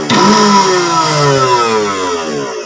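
A Best Choice Technik TCB25QS blender runs with its lid off, a loud, close, steady motor whine whose tone slowly drops in pitch.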